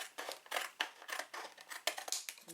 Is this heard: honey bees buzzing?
no